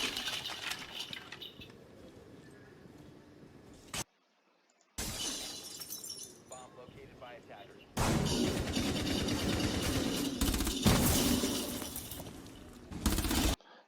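A gunfight in Rainbow Six Siege: sharp shots and shattering, breaking glass punctuate tense game audio, with a sudden silent gap, then a louder, dense stretch of gunfire and impacts near the end.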